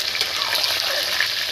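Already-fried potatoes dropped into hot oil for Kashmiri aloo dum, a loud, dense, continuous crackling sizzle filling the short moment.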